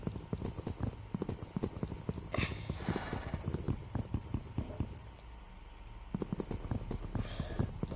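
Minecraft horse trotting, with rapid, evenly paced hoof clip-clops throughout, briefly broken by a rustling burst and a short lull before the hoofbeats resume, with no speech.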